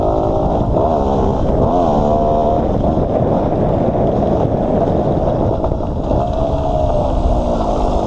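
A GasGas 250 two-stroke trial motorcycle engine runs steadily and loudly up close, a continuous buzzing drone with small shifts in revs throughout and no pauses.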